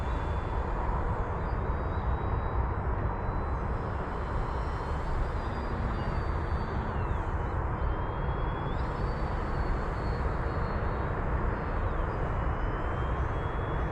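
An RC airplane with a new motor and a Tempest 12.8 prop runs steadily, producing a loud continuous electric buzz and propeller whine that rises and falls slightly in pitch throughout, with no voices.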